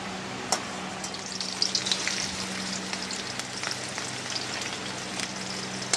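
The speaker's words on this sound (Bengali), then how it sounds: "পেঁয়াজটা লাল লাল করে ভেজে নেব।" Onion frying in oil, a continuous moderate sizzle with occasional crisp pops and spatters, steady throughout and without speech.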